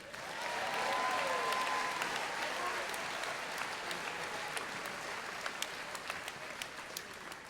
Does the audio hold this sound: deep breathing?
no